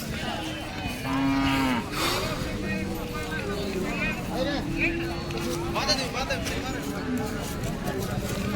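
Cows moo loudly several times at a cattle market in Modnimb, long low drawn-out calls over a steady outdoor background, with people talking nearby.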